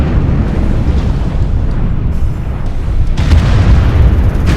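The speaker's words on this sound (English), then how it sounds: "Oh, airstrikes." Airstrike explosions pound a MechWarrior Online battle, a loud, continuous rumble of deep booms and bursts with a heavier blast surging near the end, no voices over it.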